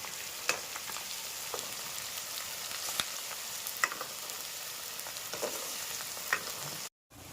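Ginger and shallot paste frying in a pan, heard as a quiet, steady sizzle with scattered small spatters and occasional stirring scrapes, close by and alone, cutting off abruptly near the end.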